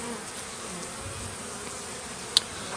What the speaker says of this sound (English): an indication of other bees robbing the hive